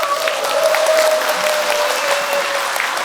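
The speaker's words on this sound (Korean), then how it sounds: "여러분 큰 박수로 모시겠습니다." Loud, steady applause from a large audience at a rural basic income alliance launch event, sustained clapping filling the room throughout.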